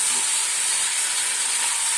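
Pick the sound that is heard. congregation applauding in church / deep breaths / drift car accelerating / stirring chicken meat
stirring chicken meat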